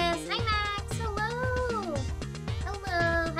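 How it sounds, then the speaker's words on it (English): Pet kittens meow repeatedly in a steady, loud run of rising and falling cries, close by, with no talking over them. "if you can hear cats meowing and screaming, it's my kittens"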